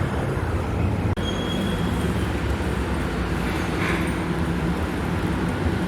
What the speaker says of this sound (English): Around now is where you'd expect the busier trains to be calling here at Chelsea.